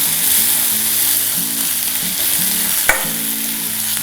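Onion frying in a pan with greens for a drumstick-flower stir-fry gives a loud, steady sizzle up close, broken once near the end by a sharp clink of a stirring utensil against the pan.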